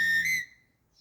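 A single short, clear dog-training turn back whistle, close and fairly loud, lasts under half a second and rises slightly in pitch before cutting off.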